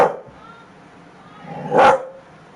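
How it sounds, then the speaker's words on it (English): A dog barks at a computer, two separate barks spaced a moment apart, close and fairly loud, with a quiet pause between them. "Dog barking at the computer"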